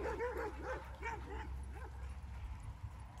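A mini labradoodle gives a run of short, eager yips and whimpery barks at close range, repeated quickly over a steady low background rumble.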